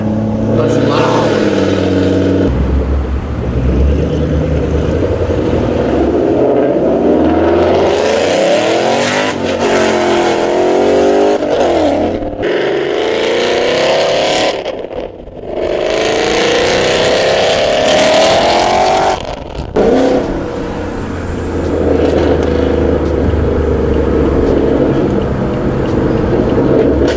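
A Ford 5.0 V8 with a catless Roush axle-back exhaust revs hard and repeatedly. The loud, raspy bursts swell and drop, separated by short gaps, with people talking over the noise.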